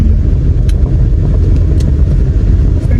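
Steady loud rumble inside a car moving through heavy traffic on a hot day, with low engine and road drone throughout and a few faint higher clicks and rattles, no voices.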